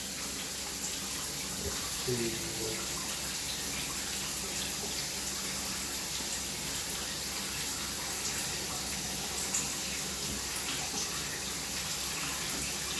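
Water running steadily from a tap during a house walk-through while testing for hot water, a continuous soft hiss and splash, faint and unbroken, with occasional talk underneath.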